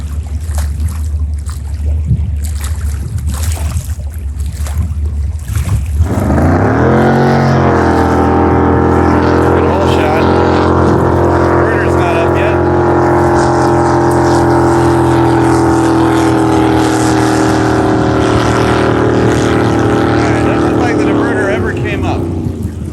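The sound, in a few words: jet boat running at speed on water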